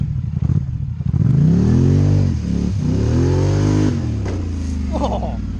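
Can-Am Outlander 850 ATV on 34-inch Motos tires in two-wheel drive revs hard for a wheelie, a loud rising and falling engine roar with two surges over several seconds.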